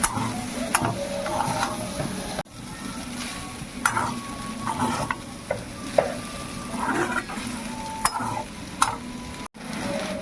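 Pasta with egg and meat frying in very little oil while a spoon stirs and scrapes the pan, with clanks and scrapes over a soft sizzle, close up, with no talking.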